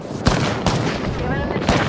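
Gunfire in the video game Apex Legends: several sharp broadband shots, one near 0.25 s, another near 0.7 s and a third near 1.7 s, loud over a dense battle backdrop of rumble and scattered effects.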